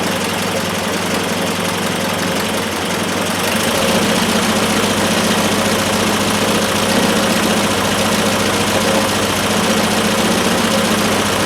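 A Triumph Spitfire generator is slowly wound up on a test bench. It gives a loud, steady mechanical drone that grows fuller partway through as the speed climbs toward about 1,000 RPM.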